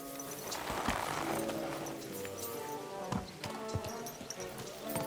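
Rhythmic horse hoofbeats clip-clop steadily in the video game Kingdom Come: Deliverance 2, over a bed of music and ambient game sound, with a few sharper thuds near the end.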